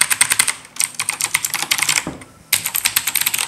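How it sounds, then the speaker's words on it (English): Keys on an Aula Demon King mechanical keyboard are banged in fast clattering bursts, loud and close, with a brief pause before another rapid volley of clicks. "But hey, banging on keys doesn't do mechanical keyboards justice."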